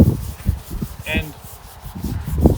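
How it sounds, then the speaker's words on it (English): A brass-bristled brush scrubs recycled timber for furniture, giving short repeated rasping strokes in an uneven rhythm, close and moderately loud, with a brief higher scraping squeak in the middle. "this is a brass bristled brush"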